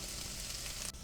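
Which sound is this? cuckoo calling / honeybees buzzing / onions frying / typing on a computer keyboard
onions frying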